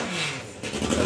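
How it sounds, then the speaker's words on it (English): A three-cylinder drag racing motorcycle revs close by at a motorcycle drag racing event, loud and raspy. Its pitch dips and then climbs again in just over a second. "I do love listening to the sound of the triple."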